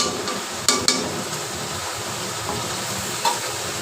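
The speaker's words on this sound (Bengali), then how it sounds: "আমি এর মধ্যে চিংড়ি মাছগুলো দিয়ে দেব।" Prawns frying with dried chili powder and coriander powder, a steady moderate sizzle with two sharp clinks of a utensil early on and a few lighter taps later, no voices.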